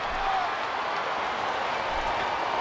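Capacity wrestling arena crowd cheering and applauding during a Randy Orton vs. King Booker match in WWE SmackDown vs. Raw 2008, a dense, continuous roar of applause throughout.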